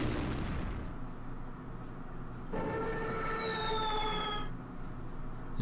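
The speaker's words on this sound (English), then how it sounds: "Heavy artillery against the Finns." Heavy artillery fire in the war strategy game Strategic Command, with a dense rolling roar of guns and a long descending whistle over the top, continuous and loud.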